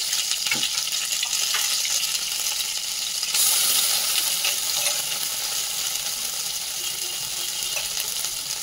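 Tomato and cumin paste frying in a pan for prawn malai curry, giving a constant loud sizzle with occasional stirring clicks and no voices.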